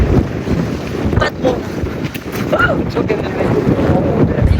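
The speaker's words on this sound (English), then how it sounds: "It's really windy." Strong wind on a New Zealand beach buffets the microphone in a steady roar, with a few faint, distant voices and gusts rising and falling throughout.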